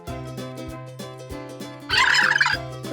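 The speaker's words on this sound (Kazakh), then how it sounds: "Күрке тауық." In a children's cartoon about domestic animals, a turkey lets out one loud, rapid gobbling burst partway through, set against steady background music.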